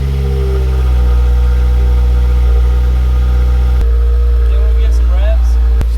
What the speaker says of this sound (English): Still idling high.